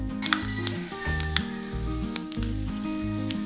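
Mustard and fenugreek seeds crackle and spit in hot coconut oil, scattered sharp pops over a steady close sizzle, with no voices.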